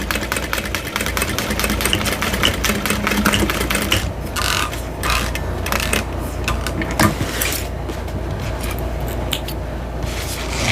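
A sewing machine stitches across the end of a fabric bowler bag, with a fast steady motor whir and needle chatter, then brief pauses and restarts, close and moderately loud, no talking.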